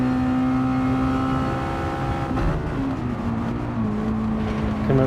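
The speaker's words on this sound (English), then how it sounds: "onto the throttle, shifting into that fourth gear right there" A Gran Turismo 7 race car at Laguna Seca sounds a loud, sustained engine drone whose pitch climbs steadily under throttle, then drops with an upshift into fourth gear and climbs again.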